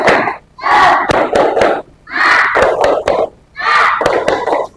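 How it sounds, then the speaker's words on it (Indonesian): Indonesian classroom spirit clap (tepuk semangat) in a mathematics lesson: a group of students chants loudly in three rhythmic bursts, punctuated by sharp, close hand claps and short pauses between phrases. "tepuk semangat."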